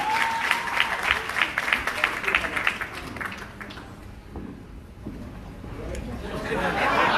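An audience at a reggae awards ceremony applauds in a crisp burst of clapping that thins out into crowd chatter and murmuring, then swells slightly again near the end.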